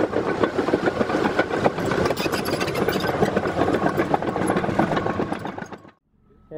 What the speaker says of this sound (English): We got two dozers running here with a 3D-MC equipment from Topcon.